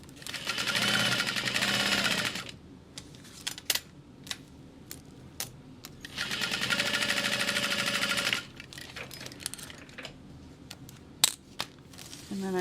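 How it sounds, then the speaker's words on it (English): A sewing machine stitches a seam on a mini backpack in two long motorized bursts, with clicks, taps and handling of fabric between the runs and a quieter third burst at the end. "now sew this together using a 1/2 inch seam allowance"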